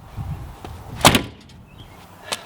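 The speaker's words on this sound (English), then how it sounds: "The door handles work." A Nissan 240SX door handle is pulled and the car door opens with a sharp metallic clunk and latch click, close up, with a softer knock a moment later.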